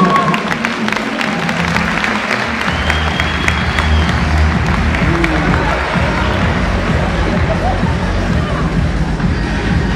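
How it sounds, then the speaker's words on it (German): Audience at the Vienna Comic-Con applauds a cosplayer, a loud, dense wash of clapping mixed with crowd babble and some cheering, filling the hall steadily throughout. "Hat sich absolut auch einen Applaus verdient"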